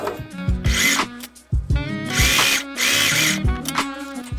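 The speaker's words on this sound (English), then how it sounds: "So starting on the seam, sew, back stitch." A home sewing machine runs a headband seam with a back stitch, its motor whirring close in several short bursts separated by brief pauses, with no talking.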